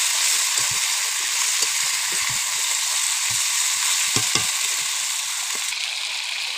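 Duck meat fries in very hot oil with cumin, bay leaves and dried chili, giving a steady close sizzle broken by sharp pops and occasional stirring clicks.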